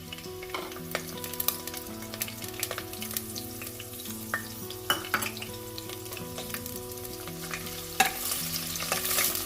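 Chillies fry in hot oil for a broccoli and tomato curry, a steady close sizzle with fine crackles and a few sharper pops, plus faint background hum, with no talking.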